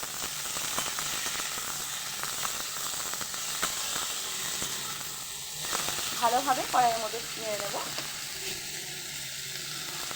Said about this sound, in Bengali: পেঁয়াজটা এভাবে ভেজে দিলাম আমি এবার আমি আলুগুলো দিয়ে দেব